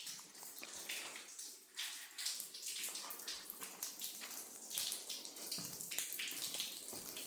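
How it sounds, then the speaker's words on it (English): Water rushes and splashes steadily through the drinking lines inside an egg-laying hen house, a continuous hissing flow. "Water is also flushed from the other side."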